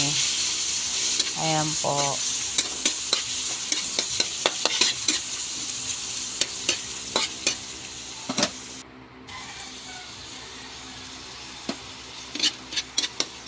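Sliced meat frying with browned garlic in a pan for sotanghon sizzles steadily, with sharp scraping stirs and clinks of a utensil throughout; a voice speaks briefly near the start.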